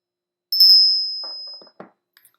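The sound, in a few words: loud bell ringing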